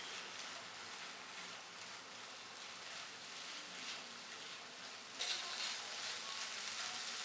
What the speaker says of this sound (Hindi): अब इसमें ऐड करेंगे 1 छोटी चॉप प्याज और 1 छोटी चॉप शिमला मिर्च। अब इनको तकरीबन 1 से 2 मिनट भूनेंगे।